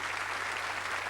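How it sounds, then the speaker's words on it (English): A TV game show studio audience applauds the contestants, a brief, dense, continuous roar of clapping at steady volume. "Give them all a round of applause."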